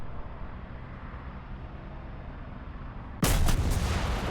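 FV4005 tank gun firing in the video game War Thunder, a single loud, sudden blast after a low engine rumble, followed by a ringing, decaying boom.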